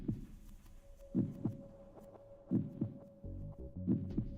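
Heartbeat effect from the video game Steins;Gate 0 for the character Okabe: soft, low double thumps in paired beats repeating about every second and a half, over a faint steady hum, with no talk.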